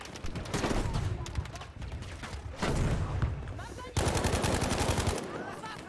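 Sustained automatic gunfire in a shooter video game, many weapons rattling in dense rapid bursts that rise and fall over several seconds, loud and close.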